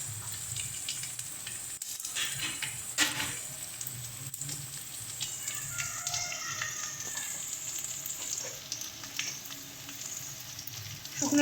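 Spices sizzling and being stirred in a hot frying pan while a spiced egg dish is cooked, with a steady crackling fry and occasional scraping clinks of the spoon, close up and continuous, with no voices.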